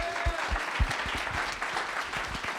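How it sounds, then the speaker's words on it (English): Indoor audience at a business outlook forum clapping steadily, a dense sustained wash of applause from a crowded room with a few louder individual claps near the front. "give us a big round of applause for these folks"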